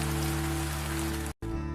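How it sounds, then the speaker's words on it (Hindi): Rain falling with wind as a cartoon sound effect: a dense, steady hiss of rain on surfaces with an underlying tonal hum, cut by a brief dropout near the end. "हवा के साथ बारिश होने लगती है"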